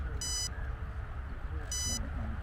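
An old, antiquated RC model speed controller emits two short high-pitched beeps about a second and a half apart over a low rumble of outdoor background noise.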